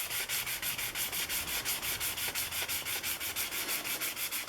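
Grit paper rubs diagonally across a curved aircraft canopy on a Corsair build, a close, quiet, rhythmic scrubbing of even strokes repeating steadily without pause.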